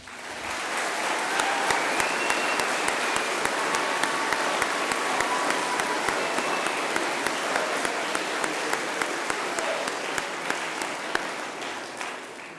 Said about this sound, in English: Please again, join me in applauding them.